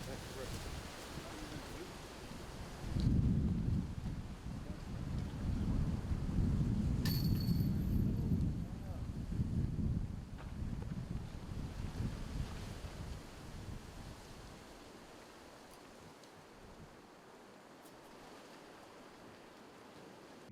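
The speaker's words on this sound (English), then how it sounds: "Man, that wind." Strong wind blows across an outdoor disc golf course in Las Vegas, with loud gusting rumble into the microphone that swells, then eases, while a commentator talks over it.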